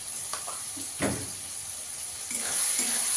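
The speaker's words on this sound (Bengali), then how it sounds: "আমি এখানে 1/2 চামচ আদা রসুন বাটা দিয়ে দেবো।" Ginger garlic paste sizzles in a pan while paneer pulao is cooked, a soft steady hiss with a few light clinks and stirring scrapes, fairly quiet and close.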